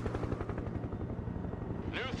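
A Venom transport helicopter in the Broken Arrow video game thumps with steady rotor beats and a heavy engine roar, continuous and loud, while someone talks over it.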